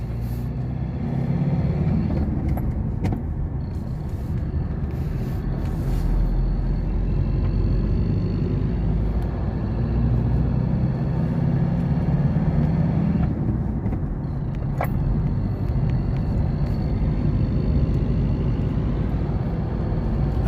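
A Ford 2.2 diesel engine is tested in the vehicle after injector repair, giving a steady, loud mechanical drone with a gentle swell in revs partway through.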